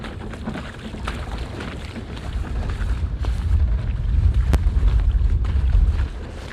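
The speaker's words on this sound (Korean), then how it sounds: "오늘은 어제와 다르게 바람이 몹시 세게 부네요" Strong wind at sea buffets the microphone in a continuous low roar, swelling louder in the second half before easing near the end.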